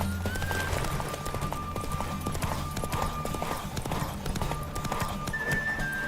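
Horse galloping in a race in the video game The Witcher 3: Wild Hunt, rapid rhythmic hoofbeats pounding continuously up close, with brief whinny-like tones and faint game music underneath.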